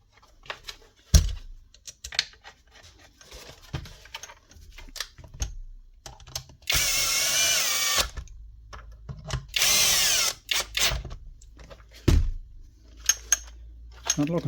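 A power drill drives two screws into the magazine of a damaged Dewalt nail gun, two loud whirring bursts of a few seconds each, close by, between light clicks and handling taps from the tool.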